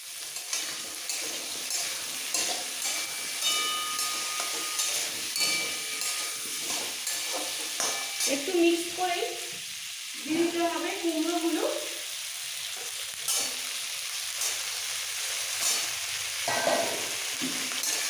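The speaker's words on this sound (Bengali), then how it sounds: "পটল আলুগুলোকে একটু ভেজে নেবো" Pointed gourd and potato pieces frying in oil in a pan, a continuous near sizzle with bursts of stirring and clattering midway, faint voice in the background.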